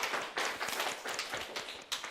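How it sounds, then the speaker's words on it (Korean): A church congregation claps together in encouragement, a dense patter of many hands that is soft and a little distant and continues steadily throughout. "우리 다 같이 격려의 박수를 한번 드릴게요."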